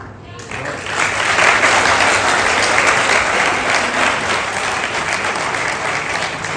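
Sustained audience applause in a university hall in Lahore, dense clapping from a large crowd that swells quickly and holds steady at full strength for several seconds.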